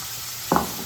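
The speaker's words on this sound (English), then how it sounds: "Again, you can still hear it sizzling." Capers and tomatoes sizzle in a hot pan, a steady hiss with a brief louder crackle as something is stirred or added midway, no talking.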